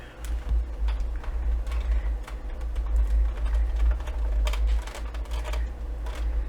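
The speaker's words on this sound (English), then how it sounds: "Put it on my die cutting machine." Die cutting machine with a cracked plate cutting a paper CD pocket, a steady low mechanical rumble with light irregular clicking and ticking on top, close and continuous with no speech.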